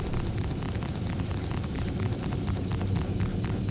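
Dense, continuous booming gunfire and explosive blasts hit the player's ship in a pirate-style video game, a loud rumbling barrage with crackling bursts layered throughout.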